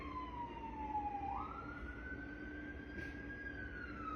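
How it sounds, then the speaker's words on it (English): An ambulance siren passes nearby, a steady wailing tone that drops and then rises in pitch over a constant hum of road traffic, with no talking. "I just simply mentioned the bomb and there's a siren going by"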